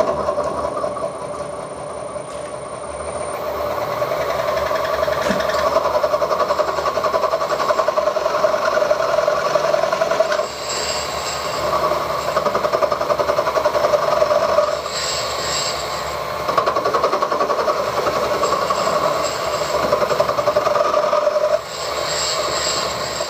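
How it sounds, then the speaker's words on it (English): A milling machine cuts the flap at the bottom of a hole with an old carbide ripping cutter, giving a loud, steady mechanical drone with high whining tones that rise and fall over a long continuous run. "It's an old carbide ripping cutter I've had for a long time. It does the job, and all I want to do is machine the flap on the bottom of that hole."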